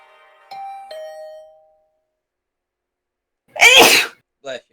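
A two-note ding-dong doorbell chime in the video game The Hundred Line: Last Defense Academy, clear and close with a fading ring, followed after a pause by a loud sneeze.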